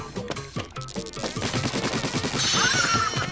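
Rapid shooting in the Splatoon video game, a dense run of repeated gunfire-like bursts over game music, steady and fairly loud, ending with a brighter high electronic tone.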